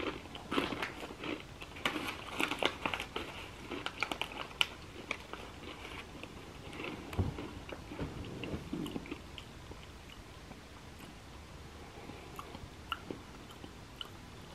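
Close, crisp crunching and chewing of a dried, crunchy Moon Cheese snack made from cheese, with dense clicky bites early that soften into steadier, quieter mastication over roughly fifteen seconds, with no talking.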